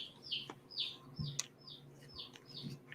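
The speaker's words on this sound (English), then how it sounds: "Oh, those are baby birds." Baby birds, two young chicks, chirping in a repeated series of high, short tweets, fairly close and alone, with a few faint low thumps in between.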